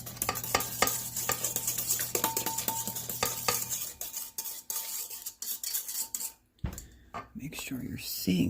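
Eggs and yolks are whisked in a bowl for chocolate muffins, with rapid, rhythmic clinking of the whisk against the bowl that slows into scattered taps, followed by a low voice.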